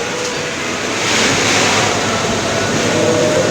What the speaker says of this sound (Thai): ตอนนี้เราก็มาขึ้นรถไฟนะครับ จะไปปราสาทมูนนะครับ